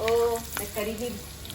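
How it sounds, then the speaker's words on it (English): Turmeric and curry leaves dropped into hot oil for vada pav masala give a close, lively sizzle and crackle, with a brief voice over the frying. "Inside this we'll put little turmeric, curry leaves."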